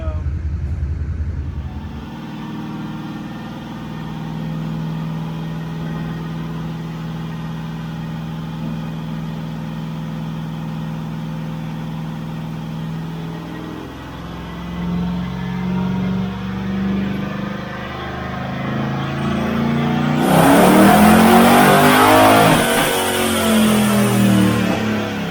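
LS-swapped Chevrolet C10 on a dyno, the engine droning steadily at a low pitch, then building to a loud, rising rev that fills the final seconds; voices are heard near the start.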